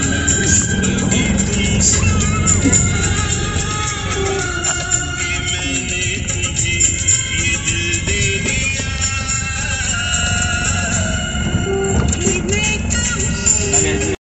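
A vehicle engine hums steadily while driving, a continuous close drone with slight rises in pitch, and voices talk faintly over it throughout.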